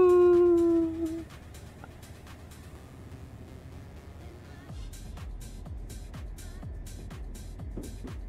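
A dog gives one drawn-out howl that fades out after a second, followed by quieter scattered woofs and whimpers over a low background hum.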